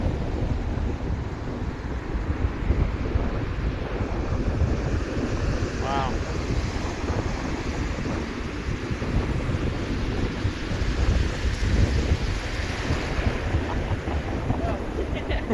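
Ocean waves and gusty wind at Daytona Beach, a loud, continuous roar of surf with rough wind buffeting the microphone throughout and no one speaking.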